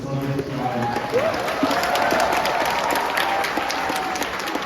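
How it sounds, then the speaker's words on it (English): An audience at a college graduation ceremony in Shillong gives moderate, sustained applause, a steady wash of clapping with faint tonal hum and some background murmur underneath. "let's all rise up and give them a great clap"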